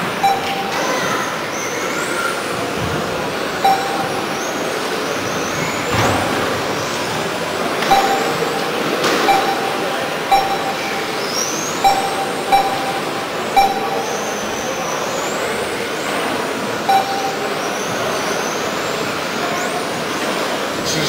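Radio-controlled model cars race on a carpet track, with high whining motors sweeping past repeatedly, rising and falling, and scattered sharp clicks and knocks from the cars.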